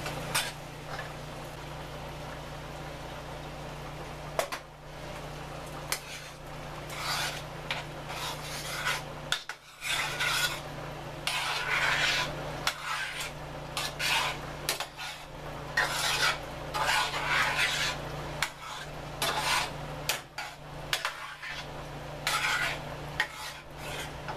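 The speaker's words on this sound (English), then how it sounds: "And now I'm going to add 2 cans of spaghetti sauce." Spaghetti sauce from two cans goes into a cooking pan, with steady scraping and stirring of utensils against the pan and a soft sizzle underneath, continuing in uneven strokes with brief pauses.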